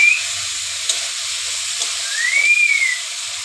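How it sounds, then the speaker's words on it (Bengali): Spice paste and potatoes frying in a pan: a steady, close sizzle and hiss held throughout, with a faint high whistling tone rising and fading briefly over it. "এবার ভালো করে কষিয়ে নেব মশলাটা, আলুর সাথে ভালো করে কষিয়ে নিয়ে তারপর জল দিয়ে দেবো।"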